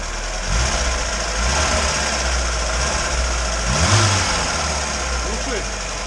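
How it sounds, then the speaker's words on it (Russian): A Lada Zhiguli engine idles roughly nearby and then rises through a few short revs, one peaking near the middle. Its rough, knocking mid-range drone runs throughout, with faint background noise and voices around it. "Чуть-чуть прогазуй."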